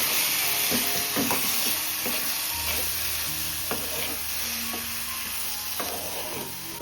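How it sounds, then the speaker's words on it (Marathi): Ground masala paste frying in hot oil with curry leaves, a loud dense sizzle and hiss with spatters and the clack of a stirring utensil against the pan, no speech. "लगेच वाटण असं तेलामध्ये फ्राय करून घेऊ."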